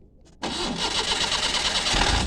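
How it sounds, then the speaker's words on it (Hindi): A car engine is started with the key: a brief starter crank catches into a loud, steady running engine that holds at idle nearby. "इस तरह गाड़ी जो है वो स्टार्ट की जाती है"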